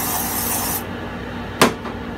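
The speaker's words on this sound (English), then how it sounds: "spray the bottom with a little bit of my Crisco, and this is spray canola oil." Crisco canola oil spray misted into the bottom of a Magic Chef XL air fryer: a close, loud, steady hiss lasting under a second, then a sharp knock and faint rustle.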